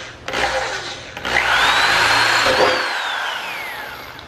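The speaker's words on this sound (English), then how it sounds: "I'm going to drill a smaller hole first, and then we're going to drill through" A power drill spins up and bores a hole through a Honda Civic hatchback for a Type R wing, with a loud whine that rises, holds, then gradually falls in pitch.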